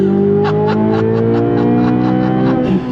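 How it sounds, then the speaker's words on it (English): A Chevrolet C8 Corvette Z06 engine pulls hard under throttle in second gear, a loud, steady rising engine note heard from inside the car, with no talk. "let's slow back down to second gear. On throttle, here we go."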